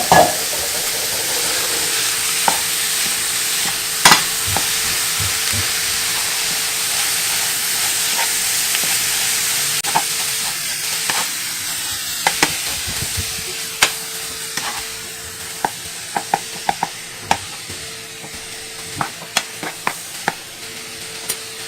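Ground beef frying with garlic and onion in a pan, a loud, steady sizzle and hiss with repeated scraping stirs and utensil taps that grow more frequent toward the end.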